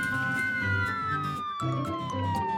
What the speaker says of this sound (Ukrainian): Це поліцейська машина.